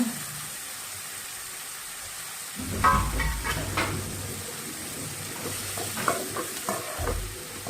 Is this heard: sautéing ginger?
yes